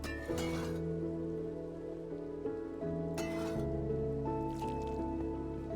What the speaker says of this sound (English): It's raining. It's still raining.